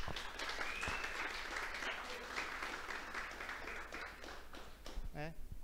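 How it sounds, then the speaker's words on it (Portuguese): An audience at a debate on sport in São Paulo applauds with steady, dense clapping and some crowd murmur, a voice cutting in briefly near the end. "Mais uma salva de palmas ao Jefferson."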